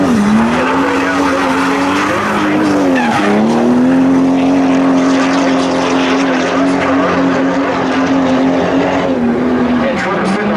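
A drift car on a competition run at the Southwest Drift ProAm round in Denver roars steadily with a loud, sustained engine note and continuous tire squeal and skidding, close and unbroken throughout.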